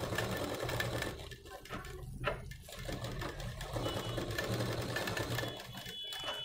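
A sewing machine runs steadily, stitching a blouse's lining fabric to its main fabric in one continuous, close mechanical whir with no talk.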